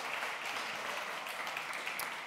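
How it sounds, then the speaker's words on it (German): A conference audience at re:publica 2013 gives a brief, faint round of steady applause. "ja, Applaus."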